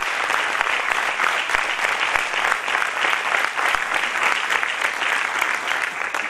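A dense, sustained round of loud applause fills a Diwali business conclave hall, a crowd clapping steadily to welcome a corporate lawyer speaker.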